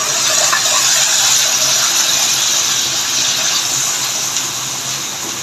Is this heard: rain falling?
no